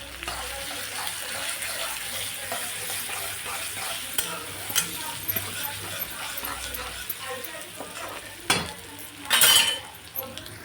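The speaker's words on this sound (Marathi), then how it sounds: "कांदा मिरच्या मस्त तळल्या गेलेल्या आहे" Onions and green chillies frying in oil in a home kitchen, a steady soft sizzle with scraping stirs and occasional clatter, while someone talks over it.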